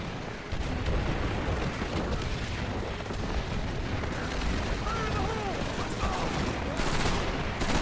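Dense, chaotic gunfire and rumbling explosions from a Call of Duty 3 battle, continuous and loud throughout with overlapping shots, and a voice briefly heard in the mix.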